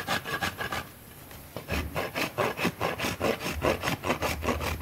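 A rasp files across a horse's hoof wall while beveling the inside heel during trimming, giving steady rhythmic scraping strokes close up after a brief pause.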